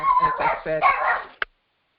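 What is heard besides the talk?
dog barking at the mail carrier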